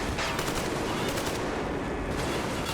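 Sustained automatic gunfire from allied fighters in the shooter game Metro Exodus, a dense, continuous rattle of rapid shots at steady loudness, with no talk over it.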